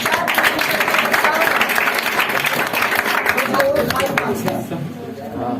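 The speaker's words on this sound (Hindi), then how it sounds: "इसके जोरदार ताली बजाइए" Audience applause at a felicitation for class 12 toppers of 2022 fills the whole stretch, a dense, steady clapping that holds loud throughout and thins slightly near the end, with voices mixed in.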